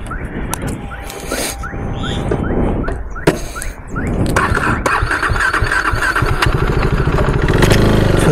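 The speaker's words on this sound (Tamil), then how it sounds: "டயரை வந்து பார்த்திங்கன்னா ஃபுல்லாகவே பர்ன் அவுட் பண்ணிட்டோம்" A KTM RC390 motorcycle does a rear-tyre burnout, its engine revving in repeated rising bursts before settling into a loud, sustained roar with tyre squeal, close and dominant throughout.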